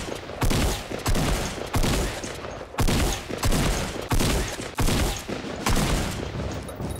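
Gunfire in Fortnite comes in repeated loud bursts of rapid shots, roughly one burst every second, close and punchy with brief gaps between them.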